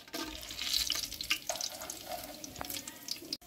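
Coconut oil pours into a large cooking pot for a wedding-style mutton biryani, making a steady, fairly close liquid stream with a faint sizzling edge that runs for about three seconds and stops abruptly.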